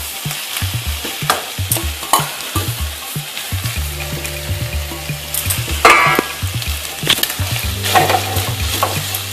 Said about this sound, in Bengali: এবার সুজির সাথে সমস্ত সবজিটা আবার ভালোভাবে ফ্রাই করে নিচ্ছি